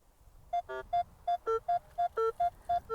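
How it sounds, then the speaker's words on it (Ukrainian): A metal detector emits a series of short electronic beeps on a coin signal in a fairly regular rhythm, mostly one pitch with a few lower and higher tones mixed in. "Ось дивіться, чисто монетний сигнал."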